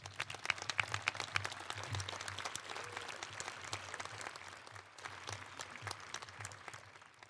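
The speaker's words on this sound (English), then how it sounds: "Please give them a round of applause." Graduation audience applauds in a large hall, the clapping fairly faint and distant but continuous, with individual claps standing out and tapering slightly toward the end.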